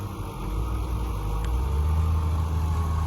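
A Caterpillar 14G motor grader's heavy diesel engine runs steadily at close range, a continuous low droning rumble with no talk over it.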